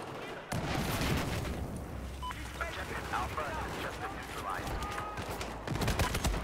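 A grenade detonates in Battlefield 4 multiplayer, a sharp blast rising out of constant crackling gunfire, with a second heavy burst near the end and a player talking over the din.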